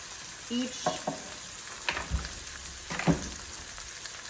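Chicken sizzles steadily in a hot pan, a soft even frying hiss with occasional light stirring knocks, close and fairly quiet, no one talking.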